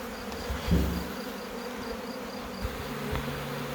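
Honey bees from a swarm humming in a steady, fairly faint drone, with a few brief louder passes of individual bees near the microphone.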